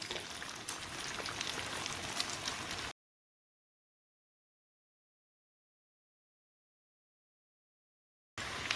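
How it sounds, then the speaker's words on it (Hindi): Half-fried potatoes for aloo tuk chaat, re-fried in hot oil over a high flame: a dense crackling sizzle up close that drops to silence and then returns briefly at the end. "अब हम इसको तेज आंच पर फ्राई कर रहे हैं"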